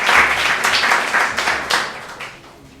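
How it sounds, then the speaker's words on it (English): At a hackathon, an audience claps for a presenting team in a short burst that starts fairly loud and dies away over a few seconds. "We're just gonna clap your hands for all"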